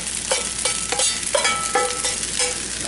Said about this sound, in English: I'm gonna add my egg